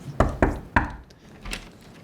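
Three firm knocks land on a door in quick succession, loud and close, followed by a fainter thud and some low shuffling.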